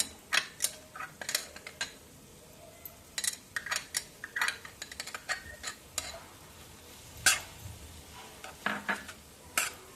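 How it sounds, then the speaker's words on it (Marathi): Veg Manchurian being sautéed in red chili sauce: a steady run of sharp scraping and clicking spoon strokes against the pan over a low sizzle, close and fairly loud, with no talking. "तो पण छान परतवून घ्यायचा आहे रेड चिली सॉस टाकायचा आहे आता"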